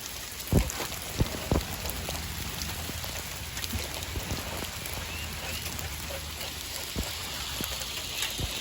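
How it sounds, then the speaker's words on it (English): Steady rain pours down outdoors, a dense close hiss of drops on surfaces with a few sharper splats and knocks, and a faint rumble of thunder underneath, without any speech. "When it stops raining, I want to show you a couple more."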